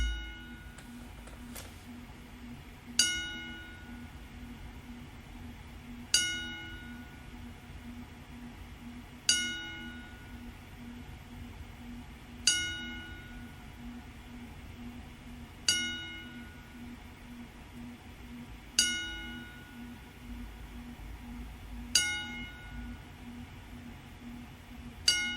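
A memorial ten-bell salute: a single bell struck at steady intervals of about three seconds, each clear ring decaying before the next, over a low background hum and faint room noise.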